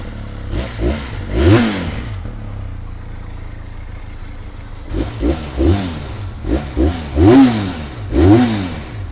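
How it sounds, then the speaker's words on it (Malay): Stock-exhaust Benelli 502C motorcycle engine idling and blipped repeatedly, rising and falling revs in quick bursts over a steady idle, close and loud. "Jom kita start tengok ini Benelli 502C."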